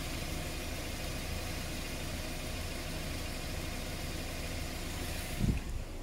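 Engine of a 2018-2019 Hyundai Sonata idling, a steady, quiet low hum with no rise or fall, heard alone, with a brief soft thump near the end.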